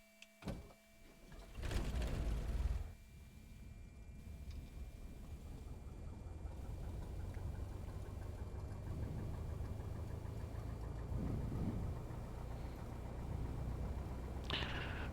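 A small aircraft's piston engine cranks over with a short loud burst, catches, then settles into a steady, continuous idle that drones on evenly throughout.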